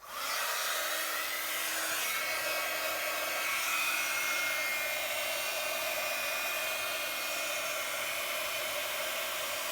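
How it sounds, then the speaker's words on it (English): An embossing heat gun blows steadily while a craft tag is worked on, a loud, continuous broadband whoosh that holds level throughout without interruption, close by and alone with no talking. "I'm going to put my heat tool on so it will get"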